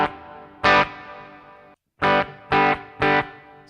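Four loud electric guitar strums pass through a Tech21 FlyRig 5 v2 multi-effects unit's reverb, each chord ringing out with a lingering reverberant tail before cutting off.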